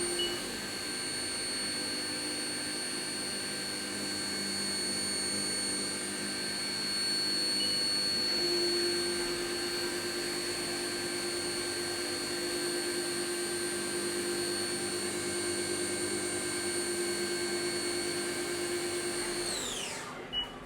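A HAAS Mini Mill cuts a chamfer on soft jaw blanks, a steady high whine with sustained tones that barely change over about twenty seconds and wind down at the end.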